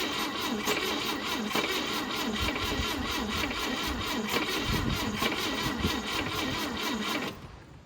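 A 1971 Volvo 142 engine catching and firing, a rapid rhythmic chugging and clatter held for several seconds before it drops off abruptly at the end.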